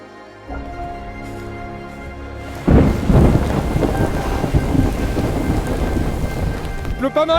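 Heavy rain with rumbling thunder on Mount Etna, heard from inside a cave; a sudden loud thunderclap breaks in after a quieter start, followed by a steady dense roar of downpour.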